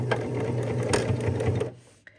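Sewing machine stitching a purse seam, a steady close mechanical whir with rapid needle clatter for about two seconds before winding down, followed by a small click.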